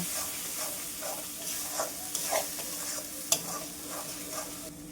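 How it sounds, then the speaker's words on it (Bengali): Ground spice paste, cooked after turmeric and Kashmiri chilli powder, is stirred and sautéed in a pan, giving a steady close sizzle broken by repeated soft scraping strokes and one sharp clack. "এখন এই মশলাটিকে ভালোভাবে কষিয়ে নেব"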